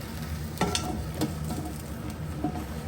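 Seafood stir-fry with garlic sizzles steadily in a covered pan over the highest heat, a dense crackling hiss broken by a few sharp pops and spatters, close and alone.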